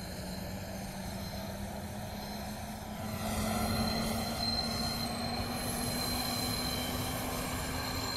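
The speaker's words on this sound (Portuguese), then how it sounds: "um barulho quando ele faz curva, por causa do atrito lá das rodas que bate no trilho" A train in the Roblox game Terminal Railways rumbles steadily along the track, its wheels squealing on a curve in a sustained high metallic whine that grows louder partway through.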